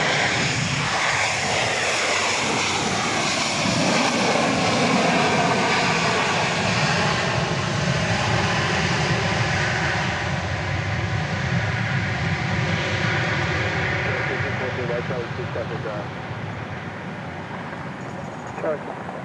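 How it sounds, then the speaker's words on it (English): Boeing 737-700 landing at Dallas Love Field after a flight from New Orleans at night, its engines a loud, steady broadband roar that holds throughout and eases slightly near the end, with talk faintly beneath. "Flight 1514 coming in here from the Big Easy, New Orleans."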